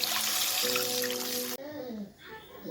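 Water poured into a pan of spiced fish curry with fried ground spices, potato and cauliflower, a steady close splashing pour that stops abruptly partway through, followed by softer bubbling.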